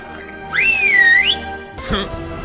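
A person whistles to call a dog: a single loud whistle rising then dipping and rising again in pitch, followed by a short rustling sound, over a low background hum.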